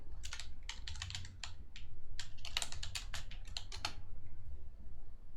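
Loud, rapid typing on a computer keyboard, a steady run of sharp key clicks close to the microphone with brief pauses, heard alone with no talking.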